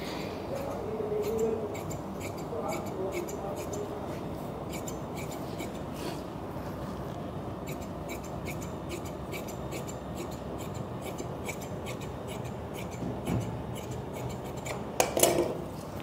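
Scissors snip steadily through lehenga fabric during a tailoring session, a long run of quick, close, rhythmic cutting clicks with a couple of sharper snips near the end.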